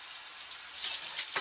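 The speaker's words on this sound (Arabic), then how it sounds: "كل المطلوب مني اني هنزل تحت الميه كده" Running tap water rinses a greasy dish at a kitchen sink before it goes into the dishwasher, a faint, steady splashing stream that swells slightly toward the end.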